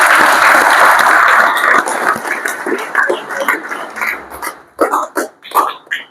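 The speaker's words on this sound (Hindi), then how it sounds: "एक बार जोरदार ताली हम सबके लिए" Audience applause from students at a lecture hall talk, a dense burst of clapping for the first two seconds that thins into scattered, uneven claps with a few stray voices before fading out.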